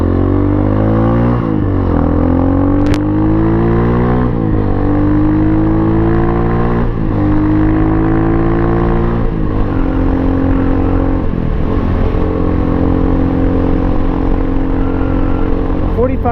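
A Pitsterpro XTR250 dirt bike engine drones steadily through a first ride, loud and close, its pitch climbing repeatedly through gear shifts with brief dips between, continuous for the whole stretch.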